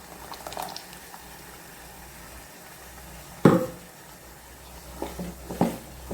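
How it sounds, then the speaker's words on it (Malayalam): A pot of chickpea curry simmers with a soft low bubbling, a few louder gurgling plops and light utensil knocks, fairly quiet and without talk. "നമ്മുടെ കറി നല്ല രീതിയിൽ തിളച്ച് വന്നിട്ടുണ്ട് കേട്ടോ"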